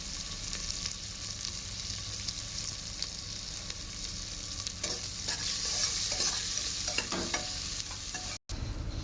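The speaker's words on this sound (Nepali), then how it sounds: "प्याजलाई हालेर मजाले भुटेर यसलाई राम्रोसँग भुट्छु प्याजलाई चाहिँ।" Onions fry with a continuous sizzle while a spoon scrapes and stirs the pan at irregular moments, close by.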